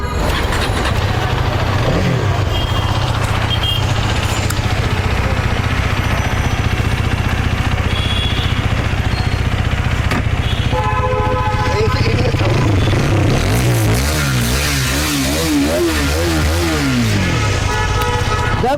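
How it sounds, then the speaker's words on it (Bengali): A used motorcycle engine runs steadily at a loud, close idle, then revs up in several rising and falling bursts near the end, with no voices. "এই হচ্ছে ইঞ্জিনের কন্ডিশন দেখেন, তার সাউন্ডে দেখা দেবো একটু আমরা"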